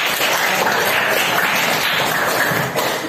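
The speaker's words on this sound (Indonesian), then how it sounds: "tepuk tangan untuk Dimas" A classroom of students applauds a classmate who has just presented group work, a steady wash of many hands clapping at even loudness for the whole stretch.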